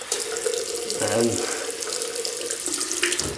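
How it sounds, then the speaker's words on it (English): Water runs steadily from a tap, a close, continuous hissing splash that holds at an even level throughout, with a faint voice briefly underneath. "Just using water now."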